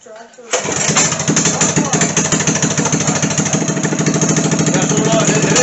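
A homemade doodlebug tractor's engine cranks briefly and then catches, settling into a loud, close, fast chugging idle that runs steadily to the end.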